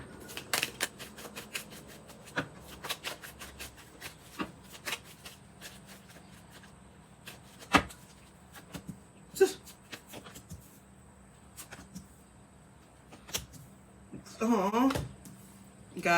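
Tarot cards are shuffled by hand in a quiet room, a run of soft riffling flicks and taps, faint and irregular, with a louder rustling burst near the end.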